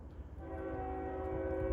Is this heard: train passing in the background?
yes